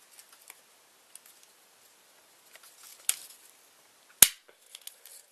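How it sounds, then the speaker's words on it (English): Paper chain strips are joined with a stapler, giving two sharp, crisp clicks a second apart amid quiet paper rustling and small taps. "we're gonna just staple it right together like you would with a normal paper chain"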